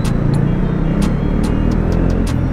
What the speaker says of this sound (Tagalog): Traffic dito guys.